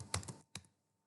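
Brief bursts of keystrokes on a computer keyboard as a short word is typed into a browser search bar: a quick cluster of clacks, a pause, then one more tap, close and fairly quiet with no talking.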